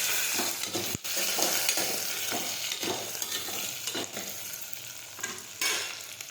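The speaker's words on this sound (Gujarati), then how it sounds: "હવે આપણે સાતળી દઈશું।" Stuffed brinjals are sautéed in oil tempered with mustard seeds, cumin and asafoetida, a constant close sizzle overlaid by repeated scraping strokes of a spoon and one sharp knock against the pan.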